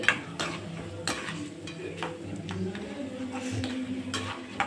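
Lentils frying in a pan for a tempering, giving a steady soft sizzle broken by occasional spoon scrapes and light taps against the metal.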